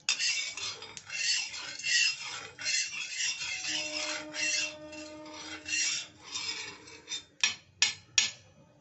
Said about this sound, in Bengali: তাওয়াতে ঘি দিয়ে দিচ্ছি, অল্প দিলাম আগে, খুন্তি দিয়ে সব জায়গা ভালো করে মিশিয়ে নিই